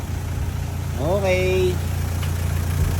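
A 2016 Honda H100 motorcycle idles steadily close by, a low rumbling drone running through the whole moment, while a brief voice speaks over it midway.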